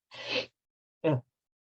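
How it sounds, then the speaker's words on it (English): A single sharp sneeze-like burst, close and clear, followed shortly by a brief exhaled vocal sound; otherwise silent. "I'm going to sneeze"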